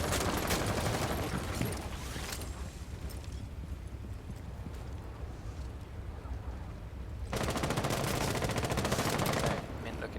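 Rapid bursts of automatic gunfire fill the Rainbow Six Siege pro league match, loud dense rattling volleys with a quieter gap midway, under an announcer's commentary.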